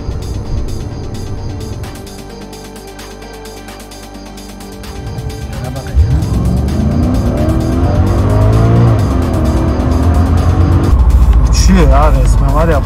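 A Mercedes W124 E60 AMG or 500E accelerates hard from standstill in a 0–100 run, its engine note building and rising through the gears, loud and close, with people talking over it inside the car.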